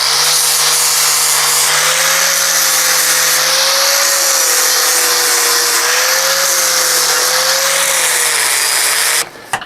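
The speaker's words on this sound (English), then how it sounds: "to bevel and stuff, that edge, if you want to get fancy, put that in there, and you come along with a flap sander." A flap sander bevels the edge of a 2x4 wood stud, a loud, steady abrasive whine with a constant motor hum running for nearly ten seconds before cutting off.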